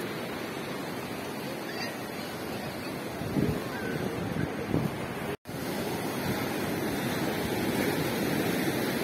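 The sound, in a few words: sea water washing over pebbles on a beach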